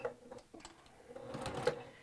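A sewing machine stitches through a quilt in short, uneven bursts of mechanical chatter, fairly quiet and close, with no talking.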